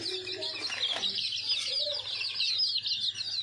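Small backyard flock of about twenty chickens in a small coop, clucking and chattering steadily while pecking at freshly scattered feed, close by with a constant low hum underneath.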